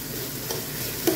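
Mung beans going into a pan of sautéed tomatoes and onions start a steady, soft sizzle as they are stirred, with a brief louder scrape near the end.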